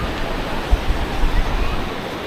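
Ocean surf at Praia do Santinho beach with a steady broadband wash of breaking waves, constant and fairly loud, with some wind buffeting on the microphone.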